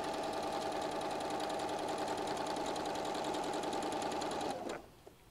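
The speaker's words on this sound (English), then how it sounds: "And I just sew all the way down." A sewing machine runs steadily, stitching a seam down folded fabric in a quilting project, its rapid mechanical whir loud and continuous before stopping abruptly near the end.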